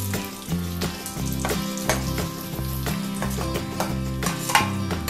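Mustard seeds fried in hot oil as a tempering are poured into a jackfruit seed and raw mango curry, giving a loud sustained sizzle with crackling pops and stirring clinks.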